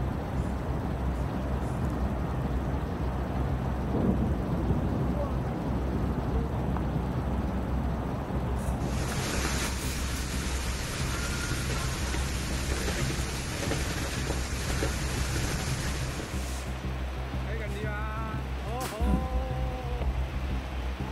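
Heavy rain pours steadily and loudly in a mountainous region of China, with deep rumbles of thunder under the downpour and a brighter hiss of rain partway through.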